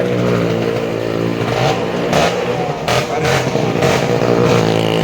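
An engine roars and revs steadily as a vehicle circles inside a well of death stunt show at the Anthiyur horse fair. The loud, continuous drone swells periodically over crowd noise.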